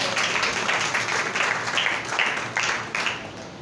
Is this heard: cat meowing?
no